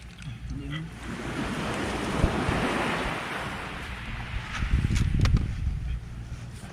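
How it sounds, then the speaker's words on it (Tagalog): A strong, cold northeast monsoon wind roars steadily and buffets the microphone, with surf-like rushing noise that swells and gusts throughout. "medyo malakas na naman ang hangin."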